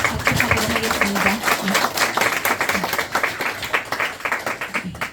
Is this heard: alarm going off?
no